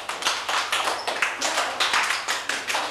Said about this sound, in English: So you start with the right hand and then clap on the right.